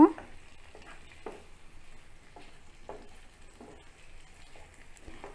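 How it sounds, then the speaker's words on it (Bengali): Chicken pieces are stirred and fried in spices for a home recipe, giving a quiet sizzle broken by a series of scraping strokes from a spatula against the pan. "মাংসগুলোকে ভালোভাবে নেড়ে দিব, যাতে মশলার সাথে ভালোভাবে লেগে যায়। এভাবে 2-1 মিনিট কষিয়ে নেব।"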